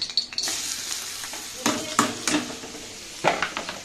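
Thinly cut potatoes fry in a wok with a soft continuous sizzle, punctuated by several sharp metallic clicks and scrapes of a spatula, heard up close in a home kitchen.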